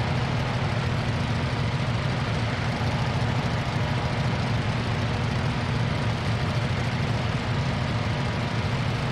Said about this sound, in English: I believe this has a boxer twin engine too